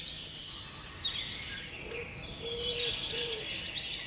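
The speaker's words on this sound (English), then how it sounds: "That's right, birds like to sing." Birds sing and coo faintly in an outdoor setting, a few soft chirps and short calls rising over a quiet hiss, with no talk.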